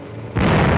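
A German tank fires in a Paris street in old archival film footage: a sudden heavy boom erupts after a brief low rumble and rolls on as a thick, sustained blast with no voices over it.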